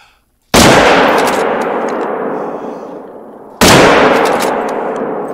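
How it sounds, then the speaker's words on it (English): Two loud rifle shots from a Canning 300 in the hunting game theHunter: Call of the Wild ring out about three seconds apart, each a sharp crack followed by a long, rolling echo that slowly fades. "Straight down, two shots. With the Canning 300."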